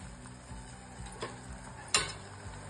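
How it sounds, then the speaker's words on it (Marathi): Patvadi rassa curry bubbles quietly in a pot with a soft, steady simmer, broken by a few light clicks and one sharper clink. "बघा आता उकळी येत आहे."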